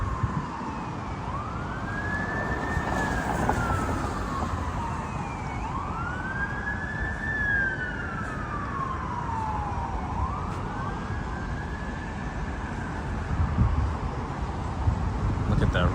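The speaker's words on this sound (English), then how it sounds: "Sounds like a fire engine. Oh, it's turning down Church Street." Fire engine siren on a Toronto street in the evening, slow rising and falling wails sweeping three times as it turns down a nearby street, heard over city traffic noise.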